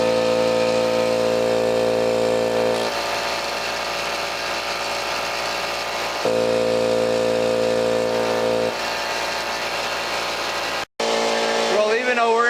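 An air compressor fitted with a homemade muffler on tubing runs steadily in an enclosed room, a loud continuous hum with strong tonal bands that cycles between fuller and thinner phases before cutting off briefly near the end.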